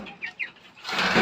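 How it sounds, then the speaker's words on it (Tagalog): Three small turkey chicks peep with a couple of short, high chirps close by, then a louder burst of rustling or fluttering at the end. "At dito meron tayong 3 pabo dito, maliliit."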